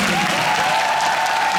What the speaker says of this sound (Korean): 김수영 교수님께 박수 한번